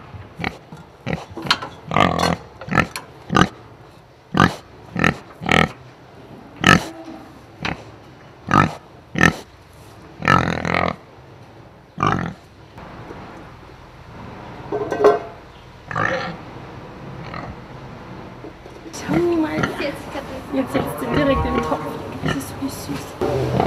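Pigs grunt and oink in a series of loud, close, rhythmic bursts, then give way to busier, more continuous snuffling and grunting toward the end.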